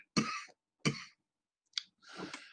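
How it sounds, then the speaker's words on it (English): Several separate coughs from someone talking about model railway layout operations, close to the microphone, with short gaps of quiet between the bursts and a final longer rough one. "Sorry about my coughing."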